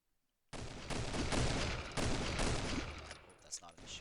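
Rapid automatic gunfire from a video game bursts in suddenly and loudly as a player pre-fires at a bot, holding as a dense continuous volley for several seconds before tapering into scattered shots.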